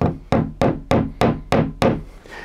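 A small standard hammer taps a nail into an HO scale flex track tie, seven sharp, evenly spaced knocks close up, each ringing briefly, with no voice over them.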